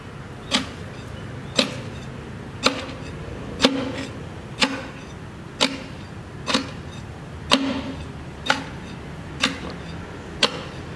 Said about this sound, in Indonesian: Kemudian kita akan tumbuk banyak 25 kali merata ke semua bagian.